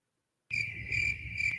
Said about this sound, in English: That's crickets when there's dead silence on the podcast.